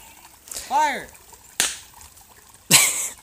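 Party poppers going off at a creek outdoors, three sharp separate snaps spaced about a second apart, each with a brief bright burst, one followed by a short whistling swoop, with no voices.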